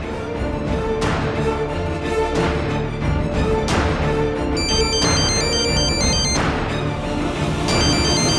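A phone ringtone plays steadily through the whole stretch, a looping electronic melody with repeated rhythmic phrases and bright tonal notes, loud and close, with no voices.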